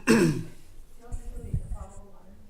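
A person at a city council meeting gives one loud, sharp throat clear right at the start, followed by quieter, scattered low throat and breath sounds in a room.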